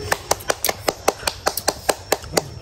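A person claps their hands in a steady rhythm, about a dozen sharp, close claps evenly spaced with no talking during the burst, at an eating challenge with fried shrimp pancake rolls.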